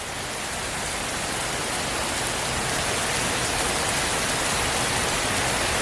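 Hail falls hard and steady, a loud, unbroken rush of pelting ice that grows slightly heavier toward the end, arriving suddenly during heavy rain.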